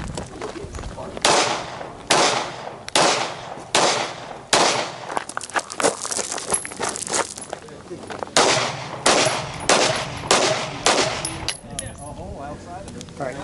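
Handgun shots fired on an outdoor shooting range during a combatives training class, a series of sharp, loud reports in quick bursts and pairs with short pauses between strings, some shots overlapping their echoes.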